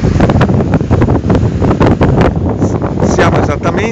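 Strong wind buffets the microphone on a breezy late-July day at the seaside by the tourist harbour of San Lorenzo al Mare, with sea noise beneath; loud, gusty and continuous, with a voice faintly in the mix.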